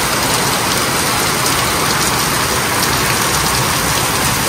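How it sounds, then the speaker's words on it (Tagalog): Heavy tropical rain pours down in a dense, even hiss of drops hitting surfaces nearby, loud and unbroken throughout. "Nagdire-diretso na po ang ulan."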